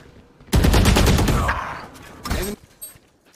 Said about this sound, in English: Shinobi then comes from behind with the Odin, just sprays him down